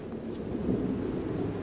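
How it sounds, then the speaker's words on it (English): Storm wind rises in the No Man's Sky video game, a low, steady rumbling roar that swells slightly and carries no voices. "it's another storm coming in that I heard"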